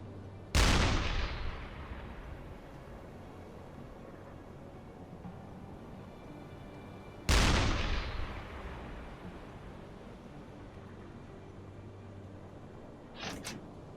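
Submarine deck gun in the UBOAT naval warfare game firing two loud, sharp shots about seven seconds apart, each booming blast decaying slowly into a steady background rumble, with no voices.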